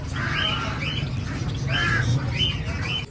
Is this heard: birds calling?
yes